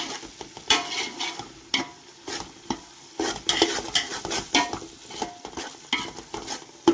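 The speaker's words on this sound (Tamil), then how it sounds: "இஞ்சி பூண்டு விழுது நல்லா வதங்கணும், கலரிடுங்க" Ginger garlic paste and tomatoes frying for dum biryani, a constant close sizzle under a run of rhythmic scrapes and knocks as the mixture is stirred around the pan.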